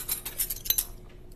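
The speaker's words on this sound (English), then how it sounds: "I'm going to use spoons." Two spoons struck against each other as a rhythm instrument, giving a string of bright metallic clicks and clinks in a quick irregular pattern, close and moderately loud with no talking.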